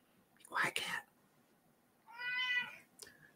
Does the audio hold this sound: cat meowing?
yes